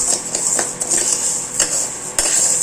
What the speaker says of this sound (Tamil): ஈரத்தன்மை இல்லாமல் இருக்கிறதுக்காக நம்ம வறுக்கிறோம்